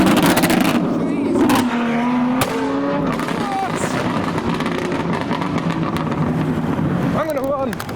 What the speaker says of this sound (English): Cars are leaving at the same time though.